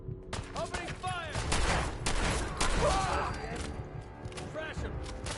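Rapid bursts of gunfire in the video game Fallout 4 crack out in quick volleys, layered with game effects and mechanical clatter, while an excited voice talks over the shooting.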